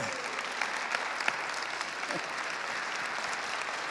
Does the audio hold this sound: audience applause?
yes